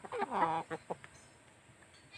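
Chickens cluck in a quick burst of short, nasal calls up close, then a couple of softer clucks trail off into quiet.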